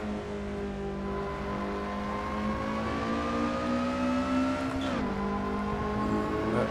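A Lotus Elise SC accelerates hard around Mount Panorama, Bathurst, its engine note climbing steadily and loud from close by, then dipping sharply at a gear change before pulling upward again, with no talking.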